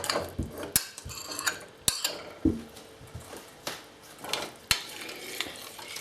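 A utensil stirs butter into a hot pot on the stove, producing scattered clinks and scrapes against the metal over a soft simmering sizzle, with no talking.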